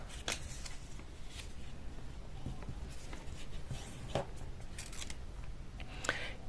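Paper being creased and folded by hand for an origami heart box, soft close rustles and crisp creasing ticks scattered over a faint steady background.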